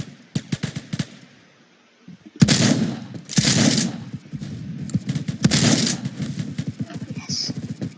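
Shotgun fire in the online shooter Phantom Forces: repeated sharp blasts in bursts, loud and close, with a brief quiet gap, then dense volleys of shots.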